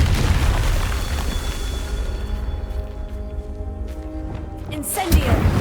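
A Confringo spell in the Hogwarts Legacy video game blasts off as a loud, sustained booming explosion that rumbles, with a sharp burst near the end.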